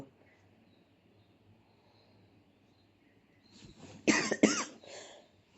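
After a few seconds of near silence, a person coughs hard two or three times in quick succession, close by, followed by a softer trailing cough.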